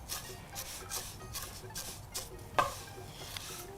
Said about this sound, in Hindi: अब इसको हम इसमें थोड़ा सा घी में भून लेंगे अच्छी तरह